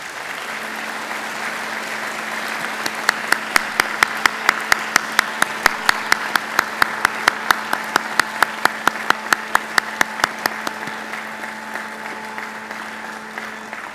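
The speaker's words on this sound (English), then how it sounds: "give them a mighty round of applause" Graduates at a university graduation ceremony applaud their family and friends, a steady crowd applause with many hands clapping together, loud and sustained throughout with sharp individual claps standing out above the roar.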